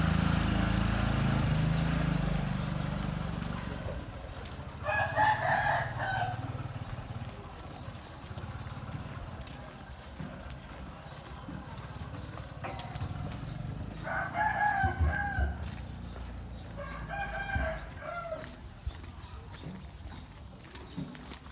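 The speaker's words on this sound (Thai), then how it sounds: "เสียงไก่ขันเสียงนกร้อง" Roosters in a village at Ban Non Sombun, Chaiyaphum, crow several times, some near and some farther off, in long drawn-out calls over a low rumbling background with faint clucks.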